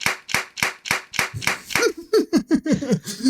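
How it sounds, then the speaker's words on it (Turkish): Seven sharp hand claps in a steady rhythm, followed by laughter and chatter, during a Valorant gaming session. "Beğendiysen bir alkışla bakayım"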